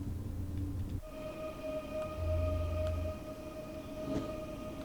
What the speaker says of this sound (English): Lovely traction motors on this train.